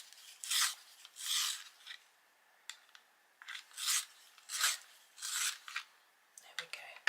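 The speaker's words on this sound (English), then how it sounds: "I need to sharpen it." A beige Prismacolor colored pencil scrapes through a sharpener in repeated rasping strokes, about seven grinding bursts with short pauses, close and fairly quiet, with no talk.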